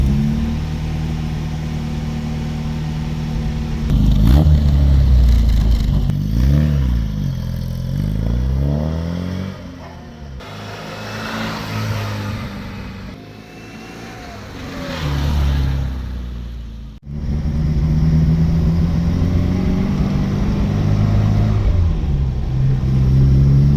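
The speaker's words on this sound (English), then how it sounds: "Unlike a modern day car, you leave the clutch up when you start it." A restored classic Mini's small engine turns over, catches and revs repeatedly at close range, with rising and falling blips, brief dips and mechanical clatter over a steady rumble.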